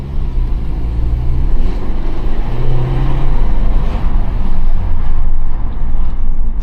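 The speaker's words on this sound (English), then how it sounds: "the car does make a bit of a nice sound" A VW Golf 7 R-Line with a 1.4 TSI engine, DSG gearbox and a sports exhaust drones steadily while driving at night, a loud continuous low engine and road rumble with no talk.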